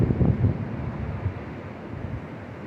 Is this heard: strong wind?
yes